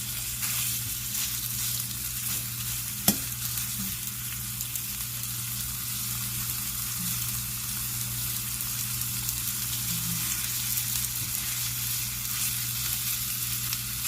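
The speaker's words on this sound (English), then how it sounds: "That was like a tablespoon of vegetable oil, and just heat it up. And let your sausage cook." Sausage fries in vegetable oil in a non-stick pan, giving a steady, even sizzle with a brief clink partway through.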